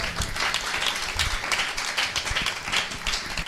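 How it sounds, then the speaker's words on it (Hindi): A church congregation claps hands together at a Hindi-language service, a moderately loud patter of many overlapping claps with some sharper individual strikes, continuous and without talk. "तारीफ करो सब, ताली बजा के।"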